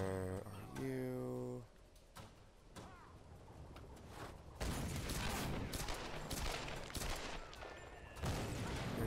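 Gunfire in Tomb Raider (2013): a harsh tonal burst, then a scattered series of sharp loud shots rising into dense, continuous volleys of gunfire with no talk over it.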